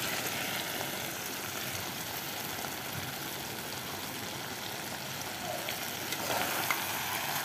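Liver frying in spiced oil in a pan: a steady, close, dense sizzle with a hissing crackle that runs throughout without pause, slightly louder near the end, with no voices.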